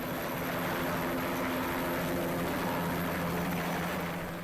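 Steady, continuous roar of a TH-57 training helicopter, a variant of the Bell 206 JetRanger, with engine and rotor noise constant in level throughout, with no voices.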